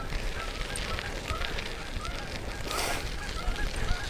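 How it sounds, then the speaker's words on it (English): Geese honking along the Katy Trail in Missouri, several calls at middle distance over wind and rolling bicycle noise. "I heard geese around this section earlier."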